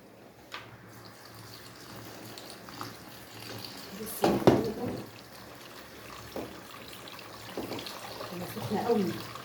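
Cooked pasta being rinsed under a running kitchen tap for Egyptian koshari, with soft water splashing and clattering against a pot or strainer, fairly quiet and intermittent, while someone talks.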